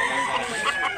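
A Blue Leg rooster, about a year old, crows at a chicken market in Consolacion, Cebu, giving one strained call that lasts about a second, close and loud.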